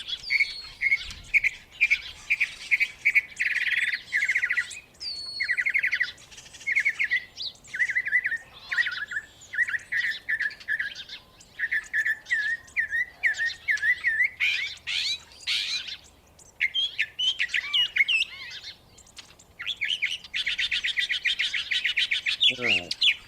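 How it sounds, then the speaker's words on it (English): A northern mockingbird sings a long recorded medley of varied phrases, each a quick series of bright repeated chirps, trills and whistles separated by short pauses, clear and steady throughout. "This bird is a northern mockingbird, and this bird incorporates other birds' songs into their calls"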